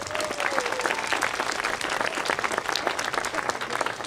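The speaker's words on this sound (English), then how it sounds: "Can I have another round of applause for our wonderful guests?" An audience applauds guests at an elementary school's 150th anniversary ceremony. Steady, full clapping fills the room throughout, with a faint voice near the start.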